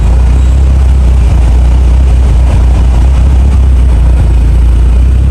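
A Mitsubishi Evo8's engine runs loud and close, with a dense, steady roar throughout and no voices over it.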